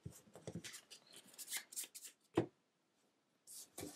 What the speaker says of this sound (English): Shuffle these in.